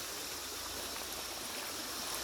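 Creek water flows and rushes steadily, a continuous bright hiss of running water with no talking.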